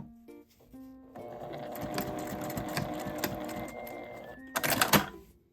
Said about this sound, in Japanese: 返し縫いをしてから最後少しだけ縫っておきます。